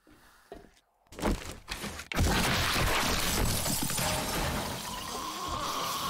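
Glass shattering in the 7 Days to Die video game: a sharp crash and breaking burst after a brief quiet gap, followed by a loud, dense sustained wash of noise.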